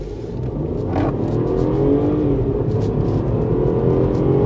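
MINI Cooper F56 with the 1.5 turbo three-cylinder B38 engine accelerating in sport mode, a loud steady rumbling drone rising slightly in pitch, heard from inside the cabin with no talking.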